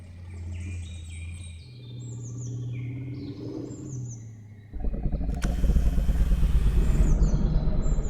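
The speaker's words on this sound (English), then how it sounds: "They've heard my Jeep pull up" A Jeep pulls up near a dinosaur enclosure. A rising rumble of engine and tires starts faint and then turns loud and close for the last few seconds, under high chirping calls from nearby animals.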